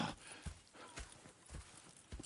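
Horse hooves clip-clop at a steady walking pace in Red Dead Redemption 2, with regular thuds that sound fairly close and moderately loud over faint background ambience.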